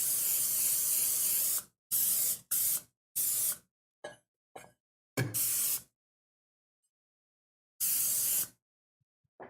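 Cooking spray hissing onto the bottoms and sides of baking trays for homemade marshmallows, a series of loud, close bursts, several long and some short, separated by silence.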